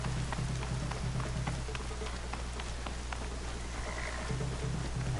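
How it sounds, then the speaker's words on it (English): Steady, dense rain from Horizon Zero Dawn patters and hisses evenly across the whole stretch, with a low constant rumble beneath and scattered droplet ticks, alone without talk. "rain."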